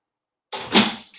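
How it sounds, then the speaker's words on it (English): A dog scratches at a door, one short scrabbling bout that starts abruptly after silence and is close and fairly clear. "That's my dog scratching at the door."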